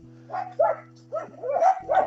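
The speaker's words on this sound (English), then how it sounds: "that's the puppies here." Puppies bark and yip in a quick series of short, high, lively barks at close range, with a steady low hum in the background.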